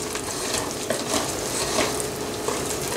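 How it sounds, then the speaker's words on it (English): A whisk works through a very thick pumpkin cacao marble cake batter, producing continuous close scraping and swishing strokes against the bowl with small rhythmic bumps, no talking. "I'm using a whisk to kind of keep some air in it"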